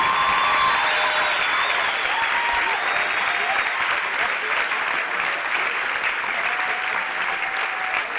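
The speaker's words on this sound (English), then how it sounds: "We would like to honor you with a thunderous round of applause for your sacrifice and service" Loud, sustained applause and cheering from a crowd at a baseball championship game, Watertown Red Devils versus Sobieski Skis, honoring military service members, steady and unbroken with a few whistles on top.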